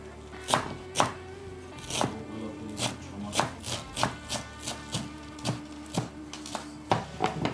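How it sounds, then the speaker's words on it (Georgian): A knife chops fresh herbs and peppers on a board while khashlama is being prepared, striking in a steady series of crisp, close taps about twice a second. "მაშინ ეხა მე დავჭრი მწვანილს."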